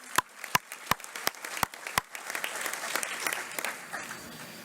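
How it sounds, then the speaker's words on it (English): Applause at a high school scholarship night, opening with a handful of loud, evenly spaced individual claps up close, then spreading into a softer, scattered patter from the gathered audience. "how about a huge round of applause for Ashley Barisi?"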